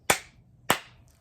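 A pair of crisp, close hand claps spaced roughly 0.6 seconds apart, standing alone in a quiet pause of the Bingo children's song.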